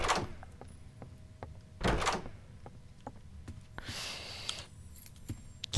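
A door in the Roblox game Doors opens with a soft thunk followed by a brief sliding whoosh, alone among faint game clicks and quiet ambience.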